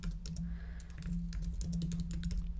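Fingers type on a computer keyboard in a burst of quick, irregular, close keystrokes, entering text in a Word poster layout, over a low steady hum with no speech.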